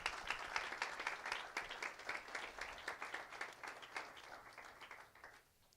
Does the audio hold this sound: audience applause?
yes